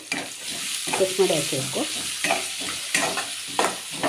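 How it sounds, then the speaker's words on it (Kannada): Chopped onions fry in a pan after ginger-garlic paste while being stirred, a close, continuous sizzle broken by repeated scraping and clattering strokes of the spoon, with no talk. "ಈರುಳ್ಳಿ ಚೆನ್ನಾಗಿ ಫ್ರೈ ಆಗಲಿ. ಈರುಳ್ಳಿ ಇಷ್ಟು ಫ್ರೈ ಆಗಲಿ."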